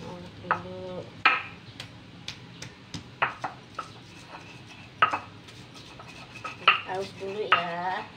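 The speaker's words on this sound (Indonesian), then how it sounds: "Nah, Mama mau ulek dulu ya." Garlic and salt are ground in a mortar and pestle, giving irregular knocks and scraping taps of stone against stone. The sounds are fairly quiet and close, with faint background noise.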